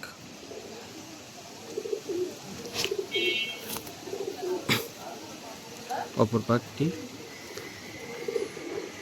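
Fancy pigeons offered for sale coo in a few soft, low bursts, mostly around the middle of the stretch, while someone talks over them close by.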